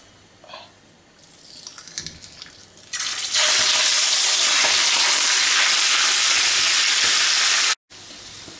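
Beef dropped into hot rendered fat for Turkish kavurma, quiet pan sounds giving way to a sudden loud, sustained hissing sizzle that stays strong and steady, no talk.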